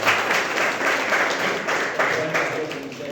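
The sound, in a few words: audience applause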